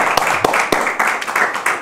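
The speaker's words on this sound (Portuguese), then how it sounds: "Lá nós recebemos com um forte aplauso, Senhor Patricio Bridgewater" An audience claps to welcome an arriving guest, a close burst of scattered handclaps with sharp individual slaps standing out over the general applause.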